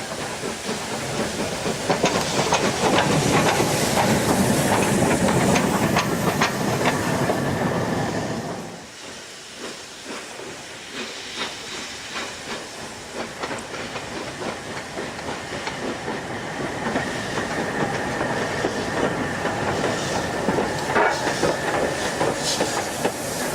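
LNER Peppercorn A2 steam locomotive 60532 Blue Peter hauls a 13-coach train over Shap Summit with two Class 31 diesels at the rear. A loud, close roar of exhaust and hiss dips briefly midway, then builds again with a rhythmic rolling clatter.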